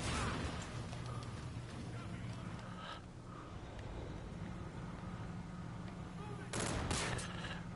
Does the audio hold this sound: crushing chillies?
no